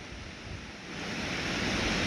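A high, fast-flowing river rushes past in an industrial city, its broad steady roar filling the scene close by and swelling slightly louder toward the end, with no voices.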